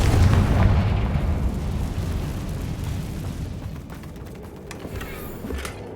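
A Confringo spell explosion in the video game Hogwarts Legacy: a loud booming blast at the start that rolls off into a long, fading rumble with scattered crackles.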